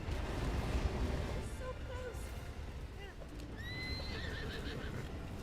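A horse neighs and whinnies in the Zelda game Breath of the Wild, rising calls rung out over a dense, steady wash of game background noise, with soft hoof clip-clop underneath.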